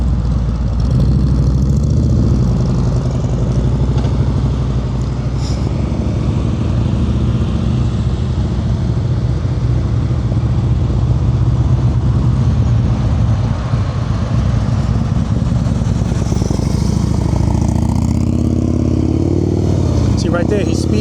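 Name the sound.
motorcycle engine during slow-speed riding with rear brake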